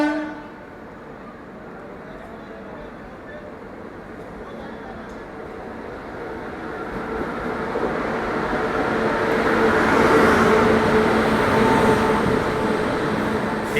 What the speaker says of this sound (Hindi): यार एक और ट्रेन यहाँ से ओवरटेक कर रही है।